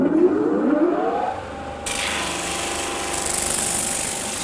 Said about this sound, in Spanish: El paso de las maderas por la lijadora es siempre obligatorio.